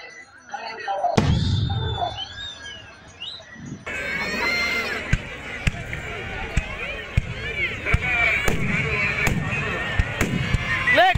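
Fireworks burst at the Karur Sri Mariamman temple festival during the Vaikasi celebration, with sharp, repeated loud bangs and crackles over a noisy crowd, whistles and chirps, while people talk and shout nearby.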